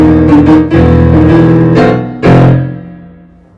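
Four-bar piano introduction to a song from the musical The Wild Party, cut for an audition: loud rhythmic chords with a final accented chord that rings out and fades.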